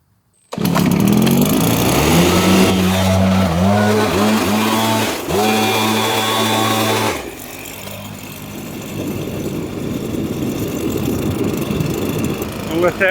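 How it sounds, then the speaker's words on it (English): A gas-engine leaf blower forces air into a burning tree stump. A loud, steady engine drone runs for several seconds, then eases into a lower, continuous roar of rushing air. "I'll let that heat up with that blower pushing a lot of air through it"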